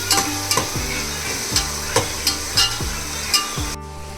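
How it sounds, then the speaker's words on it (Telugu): Onions and green chillies frying in a pan until golden brown, with a steady sizzle and a spatula scraping and stirring in regular strokes, close and loud, no talking. "ఇవి మొత్తం ఒకసారి కలుపుకొని గోల్డెన్ బ్రౌన్ కలర్ వచ్చే వరకు ఫ్రై చేసుకోవాలి."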